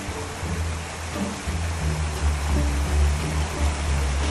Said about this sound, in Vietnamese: Cho nước này trong cái hốc đá nó chảy ra.